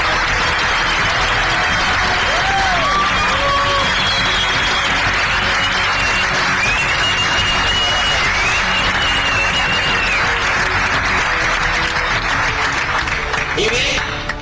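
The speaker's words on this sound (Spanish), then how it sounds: "yo quiero pedirles para ellos un aplauso de reconocimiento" A seated audience at a motivational talk breaks into continuous applause, a dense steady wash of clapping lasting about fourteen seconds, with faint scattered voices and whistles mixed in.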